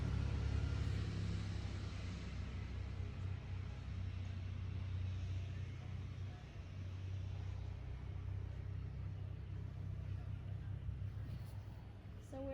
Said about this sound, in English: there's lots of noisy traffic going on, people going fishing